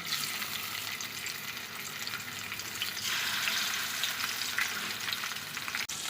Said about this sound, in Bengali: তেল গরম হয়ে গেছে, এখন দিচ্ছি মাছগুলো।